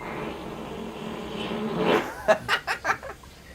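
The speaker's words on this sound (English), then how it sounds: "That's a fucking protein fart" A fart played back from a recorded Zoom PE class, heard as a short buzzing series of four or five rapid bursts after a low murmur of background noise, moderately loud and with no talk over it.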